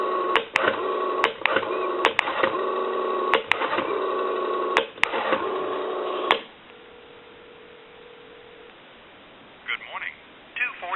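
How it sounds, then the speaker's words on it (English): A Western Electric 5302 rotary telephone is dialed over a loud steady dial tone, with sharp rotary clicks in small groups. The tone then cuts off, leaving quiet line noise, a brief hum and a few faint clicks. "We'll dial one last number."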